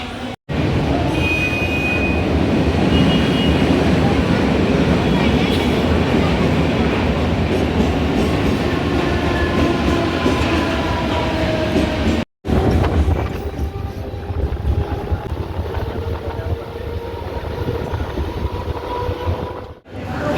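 A slow Mumbai local train arriving at Byculla station, a loud continuous rumble with wheel clatter and faint squeals, close by and sustained throughout.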